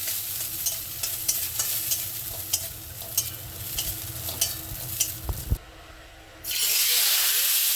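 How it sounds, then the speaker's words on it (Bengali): Bori lentil dumplings fry in hot oil in a wok with loud, continuous sizzling and periodic scraping stirs, then the sound drops away briefly before a louder, hissing burst of frying returns. "কড়াই কিছু বড়ি ভেজে নিচ্ছি"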